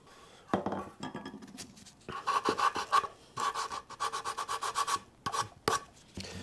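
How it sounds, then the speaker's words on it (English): A chisel pares wood down on a Telecaster guitar build in repeated scraping, rasping strokes, some short and some longer bursts, with small pauses between them. The strokes are close and fairly quiet, with no talking. "I'll just kind of pare that down with a chisel"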